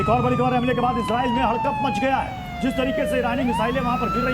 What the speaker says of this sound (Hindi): इजराइल में वॉर सायरन की आवाज गूंज रही है।